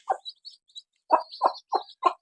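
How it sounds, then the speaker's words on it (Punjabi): Close chirps and clucks come from a hen and her newly hatched chicks: high peeping sits above a run of low, evenly spaced clucks, clear against a quiet background. "ਬੱਚੇ ਕੱਢ ਲਿਆ ਕੁਕੜੀ ਨੇ ਦੇਖੋ ਛੋਟੇ ਛੋਟੇ"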